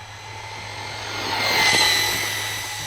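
A Traxxas Mini Maxx RC truck with speed upgrades races past on a short runway, a high electric motor whine swelling to a peak near the middle and then fading away, heard alone.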